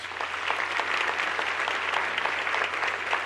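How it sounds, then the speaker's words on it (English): Audience at a Young Floridian awards evening in St. Lucie County applauding the event sponsors, steady sustained crowd applause, moderately distant, with no talking over it. "so please give them a round of applause."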